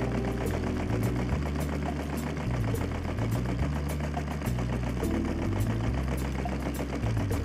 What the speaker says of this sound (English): the Lego solenoid engine really needed something cool as a load, so I built a mechanical crane.